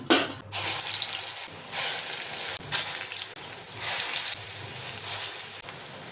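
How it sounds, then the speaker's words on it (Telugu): Urad dal vadas (garelu) frying in hot oil for a Sunday breakfast, a steady broadband sizzle with brief louder surges as the fritters are turned, alone and close. "మంచిగా అటు ఇటు తిప్పుకుంటా ఫ్రై చేసుకోవాలి"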